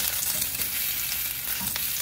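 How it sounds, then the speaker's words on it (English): Bok choy sears in a hot pan with a steady, dense sizzle, close and loud throughout, marked by a few faint scrapes and crackles. "It's starting to sear really, really nicely"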